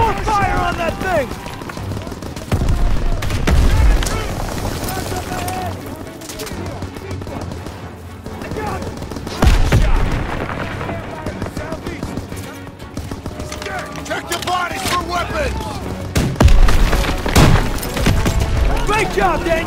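Call of Duty WWII battle with repeated gunshots and machine-gun bursts, heavy booming explosions recurring every few seconds, loud and close, with shouted voices over the combat.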